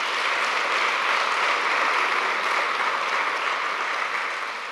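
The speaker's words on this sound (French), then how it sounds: "Je voudrais qu'on les applaudisse très très fort." Steady, dense applause from a large crowd fills the whole stretch, even and sustained before easing slightly at the end, at a hospital opening ceremony in Bingerville.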